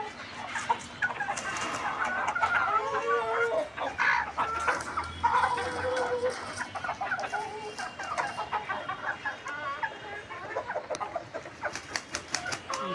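Hens clucking continuously among newly hatched chicks, with overlapping clucks and high chick peeps close by, occasional sharper calls throughout, no talking.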